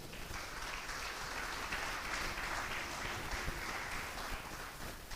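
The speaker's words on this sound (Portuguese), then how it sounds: "Aplauda Jesus." A church congregation applauds during a Portuguese-language sermon, a steady wash of many hands clapping that stays even and fairly distant for the whole stretch, with no voices standing out.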